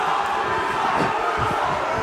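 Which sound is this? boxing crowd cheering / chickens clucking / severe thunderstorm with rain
boxing crowd cheering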